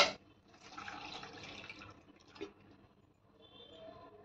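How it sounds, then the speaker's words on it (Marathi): About one and a half bowls of water is poured into a pan of sautéed chickpeas for a Maharashtrian curry, making a quiet, short splashing pour followed by a faint bubbling settle. "त्याच्यामध्ये आपल्याला पाणी घालायचे."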